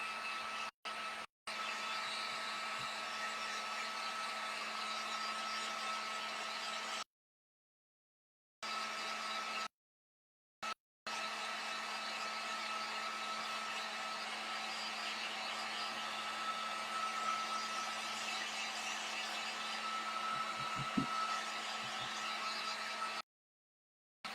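A hair dryer blows steadily and fairly loudly on a large heart-shaped fabric pouch for a dough bowl, a continuous broadband whoosh with a low hum, cut off in a few brief gaps where it switches off.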